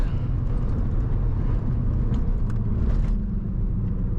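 Rotary engine of a Mazda RX-7 FC warming up, a loud continuous low rumble held steady at high revs, with faint rattles and ticks over the engine drone.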